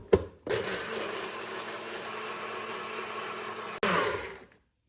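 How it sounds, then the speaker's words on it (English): A blender whirs steadily at full power, blending a vegan crab cake mixture, with a brief start-up and a burst of higher pitch near the end before it cuts off. "now we're gonna blend that up"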